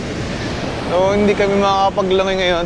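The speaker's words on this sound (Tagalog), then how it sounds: "sobrang lalaki ng alon, no?" Big ocean waves crash and roll on a beach, a loud continuous surf wash with wind noise, while someone talks over it.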